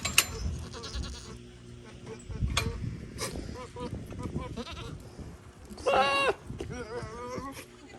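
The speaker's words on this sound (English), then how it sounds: "these goats try to come out every single time" Goats bleat near a pen amid rustling and handling noises, with one loud, wavering bleat standing out partway through and a fainter call after it.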